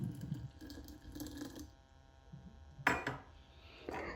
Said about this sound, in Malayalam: സ്ട്രോബെറിക്ക് ഞാൻ 3 കപ്പ് വെള്ളം ഒഴിക്കുന്നു